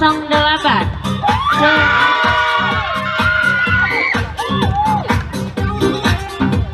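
A crowd at a school fashion show responds to a contestant's entry with clapping, loud whoops and shouting, sustained and lively, with an announcer's voice mixed in.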